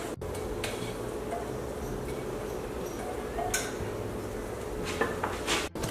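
Wet and dry ingredients for banana mango tofu bread are folded together in a bowl, with soft scraping and occasional clinks of a utensil against the dish at close range, irregular and gentle.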